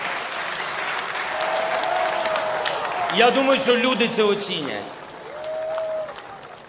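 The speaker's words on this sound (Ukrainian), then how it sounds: "Якісь вибіркові оплески" Scattered applause from an inauguration audience in a large hall, rising in a brief uneven burst partway through, with someone speaking into a microphone before and after.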